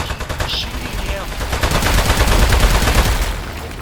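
Rapid gunfire rattles loudly and continuously in the video game Aperture Desk Job, a dense burst of shots lasting a few seconds with a voice faintly underneath.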